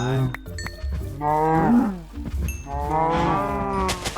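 Cows mooing in the Minecraft video game, several drawn-out lowing calls in a row, loud and close, with a voice talking briefly between them.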